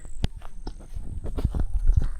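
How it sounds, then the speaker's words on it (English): Horses' hooves clop on the ground in an uneven walking rhythm at Paynes Prairie, Florida, close by, with light rustling between steps. "Just taking the horses for a walk."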